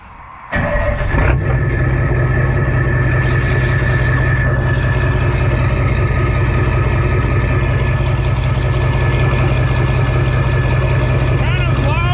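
A Ford F350 pickup with a 7.3 IDI diesel engine and 8-inch exhaust stacks starts and settles into a loud, steady rumbling idle that continues without a break, close by.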